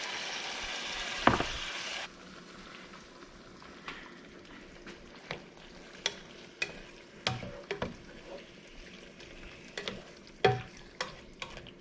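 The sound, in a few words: squid adobo frying in pan as soy sauce is added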